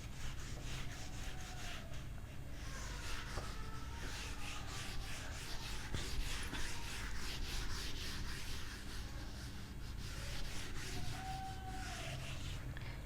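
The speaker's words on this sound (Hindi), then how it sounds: "इसको एग्जाम्पल 3 और 5 को मैं रब करती हूँ।" Worked examples being rubbed off a classroom board during a maths lesson on sets, a steady soft rubbing and wiping that runs continuously and fairly faint, without speech.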